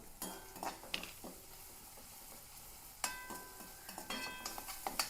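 Chopped onion, garlic and green chillies sauté with salt in a pan, a soft steady sizzle punctuated by clinking and scraping stirs, fairly quiet and close with no voices.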